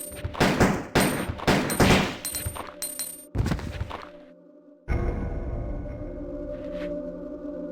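Handgun shots in the Dreamcast version of Resident Evil 2, a quick series of sharp loud cracks with ringing tails, then a lull and a low rumbling game ambience.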